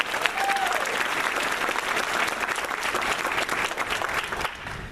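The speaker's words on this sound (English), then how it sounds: "A round of applause," Audience applause at a grandmaster council demonstration event in the Netherlands, a steady dense clapping from a crowd that carries on evenly for several seconds, then cuts off sharply near the end.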